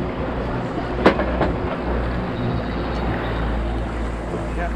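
A fishing boat's engine drones in a low, steady rumble that rises slightly. Wind and water noise run underneath, a brief knock sounds near the start, and people talk intermittently.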